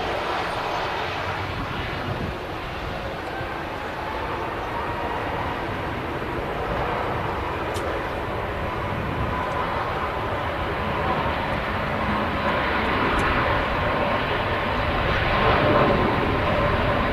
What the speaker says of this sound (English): Using a lot of runway, rolling the aircraft out.